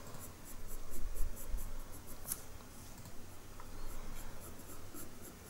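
Walnut brown colored pencil shading across paper in short, steady scratchy strokes, laying in dark fur areas of a horse ear drawing; close and soft, with no talking.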